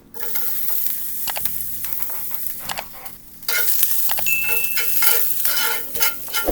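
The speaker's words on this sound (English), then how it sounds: "just to saute the onion, so you don't want a lot" Chopped onion sautéing in a very small amount of hot oil in a pan, a steady close sizzle with stirring scrapes throughout, growing louder and denser after the onions hit the pan about halfway through.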